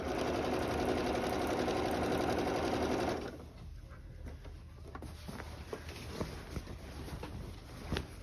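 A sewing machine stitches quilt binding around a curve, a steady loud mechanical whir for about three seconds that stops abruptly, followed by quieter handling clicks and rustles.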